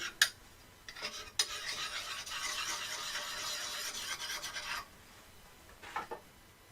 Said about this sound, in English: sharpen it, get rid of the burr.